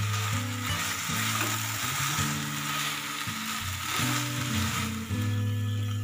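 A sugar-free coconut barfi mixture sizzles and crackles in a pan as its moisture cooks off. It is a steady, close frying hiss with soft scraping sounds of stirring.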